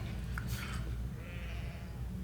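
Sheep bleat over a steady background hum, with a short wavering call early on and a fainter, drawn-out bleat following a moment later.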